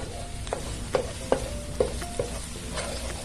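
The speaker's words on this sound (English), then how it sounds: "we will be needing laurel or bay leaves, saute until it becomes fragrant" Bay leaves sauteing in a pan for Spanish bacalao, a steady soft sizzle broken by several spoon-against-pan stirring knocks, close and moderate in level, with no talking.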